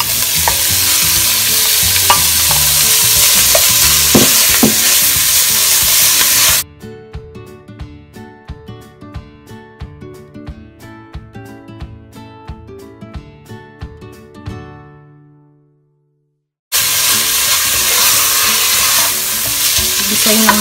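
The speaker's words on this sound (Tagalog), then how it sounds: "Gisayin lang natin siya hanggang mag-brown na siya." Ground meat sautéing in a pan for Filipino-style spaghetti sauce, a loud dense sizzle with stirring scrapes, then cut to a quieter stretch of soft clicks before the sizzling returns.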